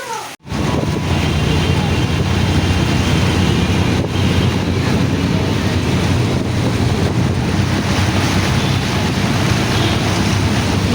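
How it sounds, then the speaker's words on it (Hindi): Heavy rain pours down in a dense, steady roar that stays constant throughout, with no gaps. "ये फुल बारिश हो रही है"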